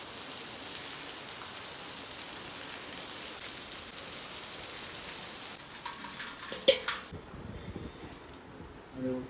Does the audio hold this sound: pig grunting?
no